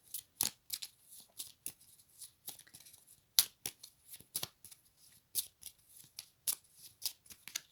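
A deck of tarot-style cards is shuffled and cut up close, with a series of crisp riffling snaps and flicks that come in irregular bursts against a quiet background.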